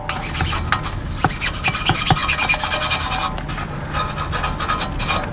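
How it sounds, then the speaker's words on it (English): A steering knuckle from an MK7 Golf GTI Clubsport S being scrubbed clean gives a steady run of close, rasping strokes with no talk over it. "The next bit of prep is to give the knuckle a good clean"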